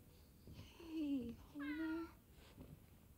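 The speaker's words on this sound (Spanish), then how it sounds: "hay que encontrar al fucking gato" A cat in the video game Forspoken gives two drawn-out meows, faint and soft against a quiet hum of game ambience.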